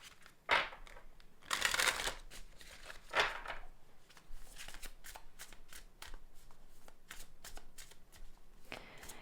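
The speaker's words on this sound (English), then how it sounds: "I'm just going to pull some cards" A deck of cards is shuffled for a reading, with several crisp riffling bursts and softer flicks and slides between them, close and fairly quiet, heard alone.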